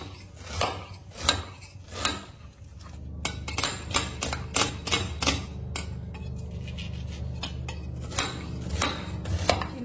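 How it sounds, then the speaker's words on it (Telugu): Knife on a cutting board chopping onions into small pieces, a run of sharp, irregular taps and thuds, close and clear, quickening into faster repeated chops with no talking. "ఇవి సన్నగా కట్ చేసుకుందాం, చిన్న చిన్న ముక్కలు."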